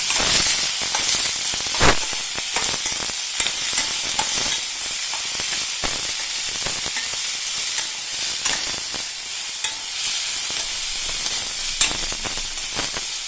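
Around fifteen whole dried red chillies fry in hot oil in a pan for a tomato theeyal, giving a steady close sizzle and hiss with scattered crackles and stirring scrapes throughout, no voices.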